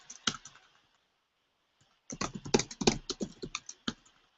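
Quick bursts of typing on a computer keyboard, a brief flurry, a pause of near silence, then a denser run of close, crisp key clicks.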